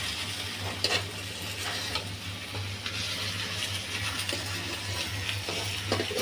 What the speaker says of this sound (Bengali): এখন আমি ইলিশ মাছগুলো উল্টাই দেব।